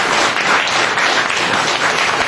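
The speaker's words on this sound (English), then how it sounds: "will you please bring your applause for Rex Church" Audience applause for Rex Church at a live lounge event, a short, loud, dense wash of clapping with no pause.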